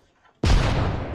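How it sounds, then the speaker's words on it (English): A grenade explodes in the Apex Legends video game, a sudden loud broadband blast that cuts in after near silence and rumbles on without fading for about a second. "Grenade."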